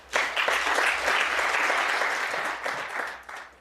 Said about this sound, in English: The knowledgeable crowd here in the snooker hotbed of Leicester appreciating that one had to be struck accurately.